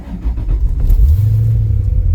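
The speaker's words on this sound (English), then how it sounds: "So first of all, the startup." A 2022 Lotus LS V8 Renegade fires up: a brief starter whirr catches into a loud, deep V8 rumble that settles into a steady, throaty idle close to the car, with no voices.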